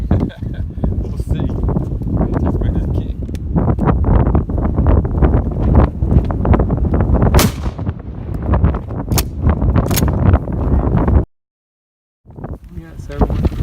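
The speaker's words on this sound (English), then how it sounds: "real windy out here" Strong wind buffets the microphone outdoors throughout, a loud continuous roar with rustling, cut off briefly near the end, during a turkey shotgun ammo and choke test.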